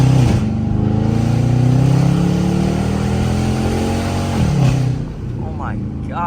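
A Dodge Charger RT on bald tires accelerates hard along a short straight road, its engine note rising steadily in pitch, dipping at a gear change, then climbing again, loud and close from inside the car.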